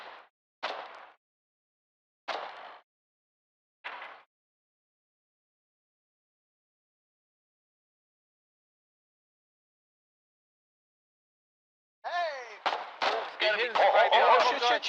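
Grenade blast in the war game Foxhole, three short sharp bangs followed by silence, then a loud cluster of rapid explosive cracks with ringing tones near the end.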